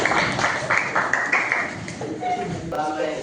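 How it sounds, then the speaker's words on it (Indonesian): An audience applauds a presenting group at a teacher-training session, the clapping dense and steady at first, then thinning and fading as voices begin. "Tepuk tangan untuk kelompok 1."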